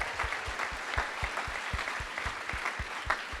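Summit audience applauding steadily, a dense wash of many hands clapping at moderate distance, continuous and fairly even throughout with no one talking over it.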